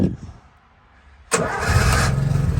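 An Austin Champ military vehicle's engine cranks briefly, falls quiet, then catches and fires up into a loud, rough, steady running rumble close by.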